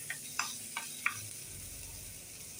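Spices being sautéed with turmeric in a pan give a faint sizzle, with four quick clicks of stirring early on followed by a low steady hiss.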